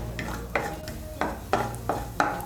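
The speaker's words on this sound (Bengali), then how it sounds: "কাজু বাদামগুলোকে হালকা করে আগে একটু ভেজে নেব" Cashews fry lightly in melted ghee as a spoon scrapes the pan in about five rhythmic strokes over a soft, low sizzle.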